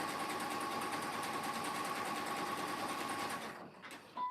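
Stitching a basket base, a sewing machine whirs in a steady, fast, even hum up close, then slows and stops near the end with a couple of light mechanical clicks.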